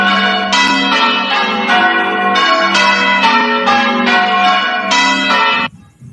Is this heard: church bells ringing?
yes